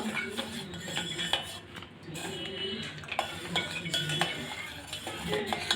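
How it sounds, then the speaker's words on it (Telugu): A spoon mixes Amul milk powder into a custard kulfi ice cream mixture in a metal vessel, making repeated close scraping and clinking strokes at a steady rhythm, with a voice talking over parts of it. "ఇప్పుడు బాగా కలపాలి"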